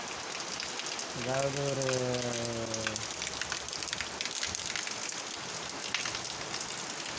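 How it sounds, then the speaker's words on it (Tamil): Moderate rain falls in Salambadi, Tamil Nadu, as a steady, even hiss throughout, with someone briefly talking near the start. "ஒரு மிதமான மழை பெஞ்சுது கொஞ்சம் நேரமாக."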